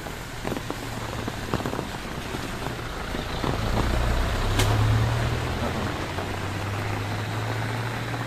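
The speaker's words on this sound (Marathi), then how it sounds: "हे बघा पाऊस किती पडता." Heavy monsoon rain in coastal Konkan pours down as a continuous wash, with low engine-like hums and a few faint knocks underneath, and no clear speech.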